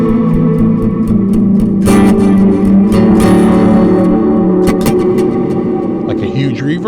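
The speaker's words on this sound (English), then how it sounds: "Like a huge reverb." Donner HUSH I Pro acoustic/electric travel guitar played through a huge reverb preset, strummed chords ringing out in a long washy tail, with a few sharp attacks and sustained notes that bloom and fade, loud and close.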